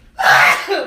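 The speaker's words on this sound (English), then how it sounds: "sneeze on the man, why don't you?" A single loud, close human sneeze bursts out after a brief quiet moment, with a short breathy tail as it fades.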